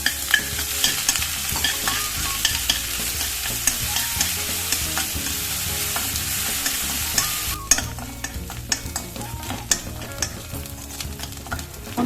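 Ginger garlic paste frying in coconut oil for palak chicken, a steady close sizzle with frequent spoon scrapes and stirring clicks throughout. The sizzle softens partway through while the stirring continues, and no one speaks.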